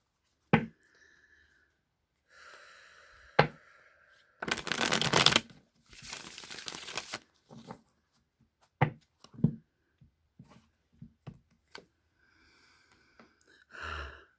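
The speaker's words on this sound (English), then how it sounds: "I'm going to shuffle one more time." Tarot cards being shuffled up close, with two longer riffling bursts between scattered taps and soft handling sounds, no talking.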